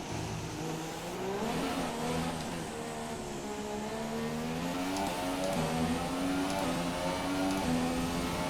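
A McLaren Honda Formula 1 car engine in F1 2017 at Monaco by night screams continuously, its pitch rising and falling through gear changes, loud and close without pause.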